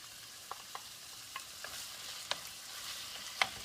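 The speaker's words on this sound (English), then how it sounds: "We're going to add our 2 cups of tomatoes." Diced tomatoes going into a pan of half-cooked lobster for pasta al diavolo: a soft, steady sizzle with faint stirring scrapes and light clinks, heard close and without voices.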